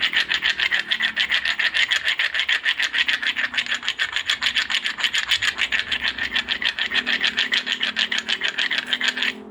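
Primitive hand-made stone tool pieces rubbed hard against each other for boat building, giving a continuous close, rhythmic rasping grind of fast repeated strokes with no talk.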